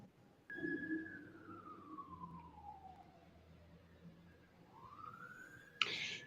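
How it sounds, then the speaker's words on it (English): A siren wails from outside, sweeping down in pitch and then rising again, steady and fairly distant beneath a quiet room, with a sharp click near the end. "Y'all hear the sirens?"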